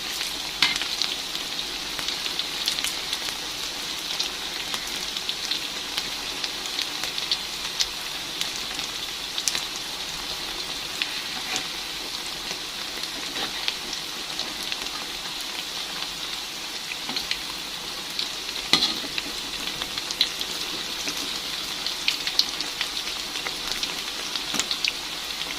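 Tongkol tuna pieces fry in oil in a pan with a continuous, even crackling sizzle, close and steady throughout, broken by an occasional faint clink.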